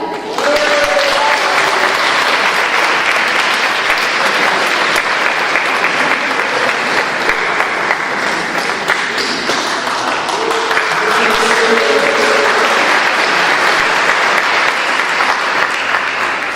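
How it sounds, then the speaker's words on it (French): An audience claps steadily and loudly for about sixteen seconds as candidate Michel Lambert arrives at a French civic debate, with the applause swelling again near the end. "Je vous demande d'applaudir Michel Lambert."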